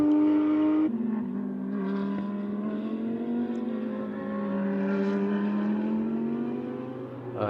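Audi R8 LMS GT race cars roar past on a circuit during a GT championship race, one engine note holding steady before a downshift and a long sustained drone as another car passes, loud and near with no commentary over it.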